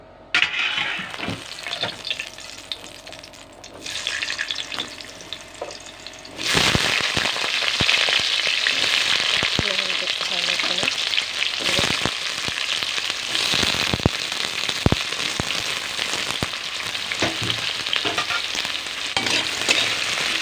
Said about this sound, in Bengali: আলুগুলো লাল লাল করে এবারে ভেজে নেব।